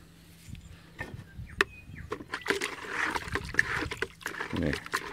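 Chlorine granules stirred into a bucket of water, close sloshing and swirling with scattered knocks against the bucket, alongside a voice.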